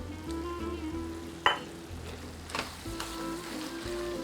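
Short rib ragù sauce sizzles after reserved pasta water is added to it in a pan, with a steady frying hiss, a few sharp spattering pops and some stirring.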